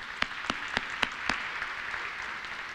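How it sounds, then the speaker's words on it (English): Crowd applause at a steel plant groundbreaking ceremony: dense, steady clapping from many hands, with a few sharper, louder claps standing out near the start over the continuous wash. "a round of applause."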